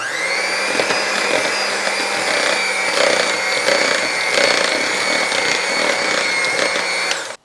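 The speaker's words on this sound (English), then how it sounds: "mixing on low speed just until blended after each addition" An electric mixer runs on low speed blending pineapple upside-down cake batter, a steady whirring motor drone with a tonal hum that holds even and close before cutting off at the end.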